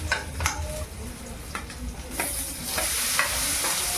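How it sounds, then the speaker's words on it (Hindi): Saag greens sizzling as they are tempered in desi ghee, a steady frying hiss with scattered crackles and spatters, growing louder and denser in the second half, with faint stirring clinks near the start. "और यहाँ पर जो है मैं साग छौंक रही हूँ देसी घी से।"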